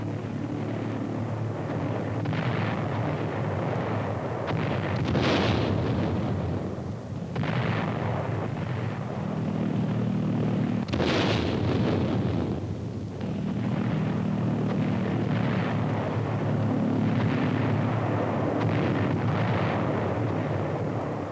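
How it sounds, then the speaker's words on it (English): Heavy booming explosions of World War II bombs bursting in midair amid a flak barrage, at irregular intervals over a constant low droning rumble, the blasts sharp and echoing, no voices. "Most bombs are exploded in midair."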